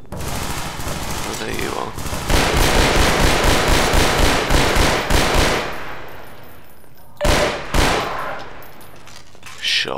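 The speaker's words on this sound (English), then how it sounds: "More sentry guns." Sentry guns in Half-Life 2: Episode Two blaze away in loud, rapid automatic fire for several seconds, then break into a few shorter bursts, with a voice speaking briefly over the gunfire.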